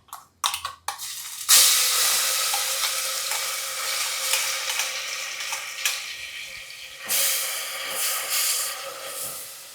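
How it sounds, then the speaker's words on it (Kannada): Ground masala paste frying in oil for an ivy gourd (tondekayi) masala curry, after cumin and curry leaves: a few soft clicks, then a loud, steady, close sizzle and crackle that continues with no talking. "ಸ್ವಲ್ಪ ಇದನ್ನು ಇದೇ ಎಣ್ಣೆಯಲ್ಲಿ ಚೆನ್ನಾಗಿ ಹುರಿಬೇಕು."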